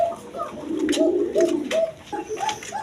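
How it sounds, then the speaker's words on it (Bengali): A pair of beauty pigeons coo in repeated soft, rolling phrases close by, the calls rising and falling steadily with no talk over them. "এক পেয়ার বিউটি কবুতর আছে"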